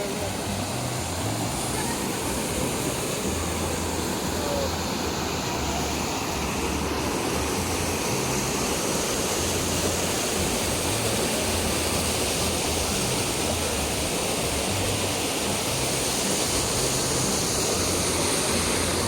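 Zanzari waterfall pours in a dense, unbroken roar of rushing water, loud and constant from start to finish with no voices.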